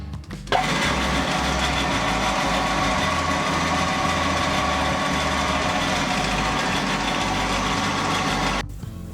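A lathe attachment's motor starts and runs with a steady whirring hum for several seconds, then cuts off abruptly at the end.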